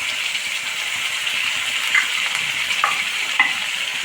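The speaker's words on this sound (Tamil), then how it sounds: "தக்காளியும் வதங்கட்டும்" Tomatoes with mint and coriander sauté in a pan for a brinjal gravy, a steady close sizzle broken by a few light metallic scrapes and taps of a stirring spoon.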